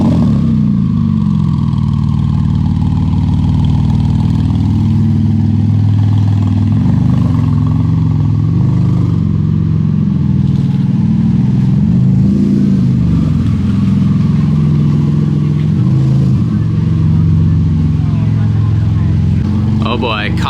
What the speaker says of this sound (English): the craziest sounding GT2 RS I've ever heard